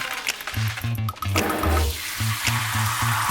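Rice being rinsed in water, with close sloshing and swirling that repeats in a steady rhythm and no voices.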